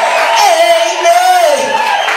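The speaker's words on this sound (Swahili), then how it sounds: "shangwe na vigelegele kwa Bwana" Church congregation at a prayer mountain cheering and ululating in praise, a loud sustained wavering trill with shouting voices blended into a dense crowd din.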